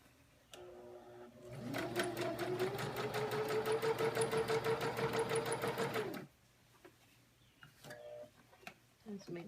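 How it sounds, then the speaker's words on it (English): A sewing machine runs steadily for about four seconds, stitching lace onto the edge of a fabric collar with a rapid, even needle chatter, and then stops. Quiet handling noises and a little talk come before and after it. "make my needle move all the way over to the edge, so I know I'm going to stitch right down"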